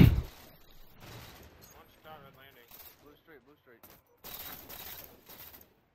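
Gunfire in a competitive online shooter match, with short rattling bursts of shots alongside a commentator's voice talking over the game audio.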